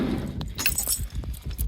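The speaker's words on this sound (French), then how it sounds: "C'est les clés du camion." Van keys jingle and clink nearby as they are handled and hung on a hook, producing a quick cluster of short metallic rattles.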